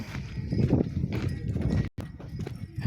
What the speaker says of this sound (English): We have a donkey here